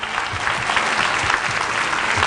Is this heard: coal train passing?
no